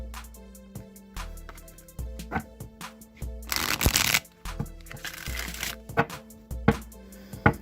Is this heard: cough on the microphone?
no